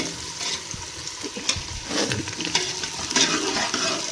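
Potato pieces fry in a hot oil tempering of whole dried red chillies, fenugreek seeds and cumin for Punjabi kadhi with pakoras, giving a steady close sizzle with scraping stirs throughout and no talking.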